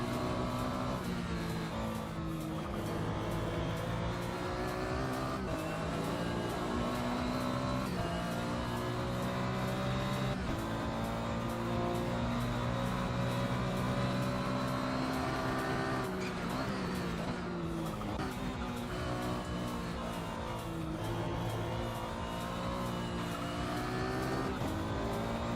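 Race cars in the sim racing game Assetto Corsa drone and rev steadily through a long stretch of track, several engines layered with faint tire squeal and the odd passing car, continuous and loud.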